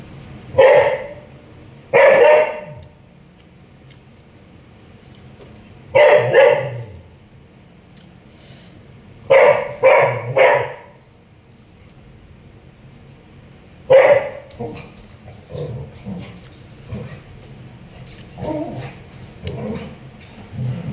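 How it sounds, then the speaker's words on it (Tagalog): A dog barks in short clusters of one to three sharp barks, spaced irregularly over a quiet background, with a few softer yips later on. "gutom na rin yung mga aso ko."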